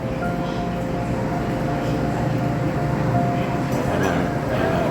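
Interior of a high-speed train at Guangzhou South railway station in China, a steady loud rumble and hum with faint clinks, and people talking in the background.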